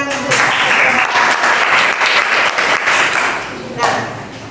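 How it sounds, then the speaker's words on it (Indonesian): Students in a physics classroom applaud a classmate's answer with a burst of lively, close clapping that is loud and steady, then tapers off near the end as a voice begins to speak. "Beri tepuk tangan untuk"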